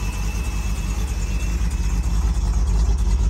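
A 1968 Shelby GT 350 convertible with a 4-speed runs steadily at a low, rumbling idle, close and continuous with no talk.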